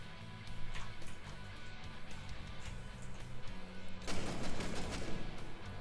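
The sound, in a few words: mortar or RPG fire in video game Six Days in Fallujah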